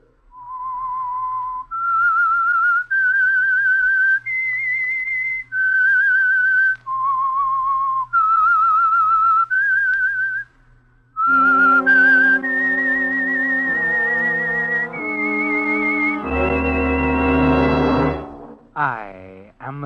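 A lone whistler carries a slow melodic tune, the theme of an old radio drama, then a brassy orchestral band takes up the same melody in sustained, swelling chords.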